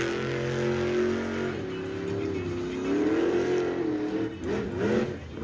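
At a Pungo off-road monster truck event on a Virginia beach course, a monster truck engine roars loudly and continuously, its pitch sagging and rising as it revs, with no voices over it.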